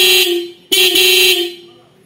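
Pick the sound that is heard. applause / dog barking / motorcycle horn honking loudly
motorcycle horn honking loudly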